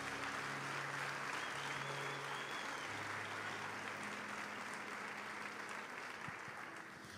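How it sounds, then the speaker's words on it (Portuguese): A church congregation applauds steadily and loudly throughout, a dense continuous clapping that tapers slightly at the end. "Será que você pode aplaudir o nome de Jesus por isso"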